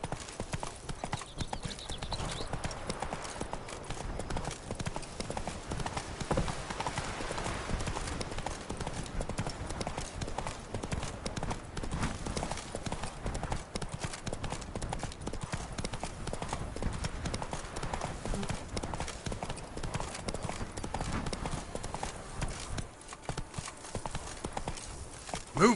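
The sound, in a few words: horse galloping hooves in video game The Witcher 3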